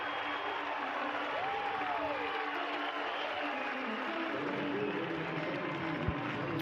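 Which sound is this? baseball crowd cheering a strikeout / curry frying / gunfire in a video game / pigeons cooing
baseball crowd cheering a strikeout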